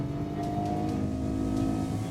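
A Nissan Gravite's engine drones steadily under load in second gear, a sustained revving tone holding at a loud, even level with no voices.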